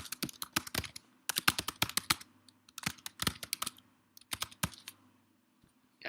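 Bursts of fast keystrokes on a computer keyboard as text is typed into a document, clicks clustering in uneven runs with short pauses, close and clear with no talking.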